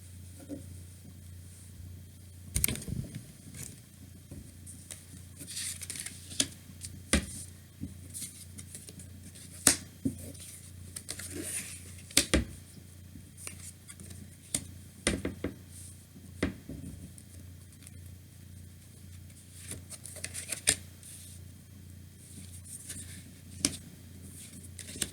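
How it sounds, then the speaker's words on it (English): Tarot cards are laid out on a table, making scattered soft snaps, taps and slides at irregular intervals. The sounds are faint and close against a quiet low hum, with no speech. "I'm going to lay cards and see who that is."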